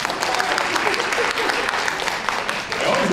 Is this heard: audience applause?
yes